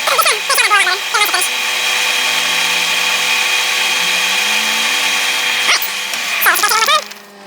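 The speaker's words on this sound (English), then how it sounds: "all I'm going to do is just put it in there and just work it back and forth, polishing it" Whining lathe running while a guide bushing bore is polished, a loud close tonal drone with shifting pitch as the work moves back and forth, with short squeaky tool sounds near the start and end.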